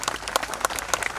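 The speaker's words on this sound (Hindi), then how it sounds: "इन कलाकारों के लिए जोरदार तालियां।" Theatre audience applauding performers after a stage play, a dense steady patter of many hands clapping close by, with no voices.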